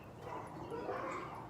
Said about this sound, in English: That annoying dog, guys. He literally barks every day, all day.